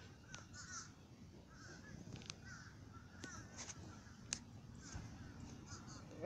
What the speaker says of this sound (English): There's a lot of seagulls.